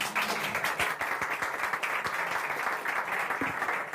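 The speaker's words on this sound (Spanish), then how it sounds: "un aplausazo aquí" Audience applause at a lecture discussion, a dense, steady burst of clapping from a crowd lasting a few seconds.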